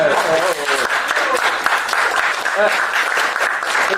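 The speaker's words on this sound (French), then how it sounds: "Ça mérite de l'applaudissement." Cabaret audience applauding, a steady wash of clapping with voices talking and calling out over it.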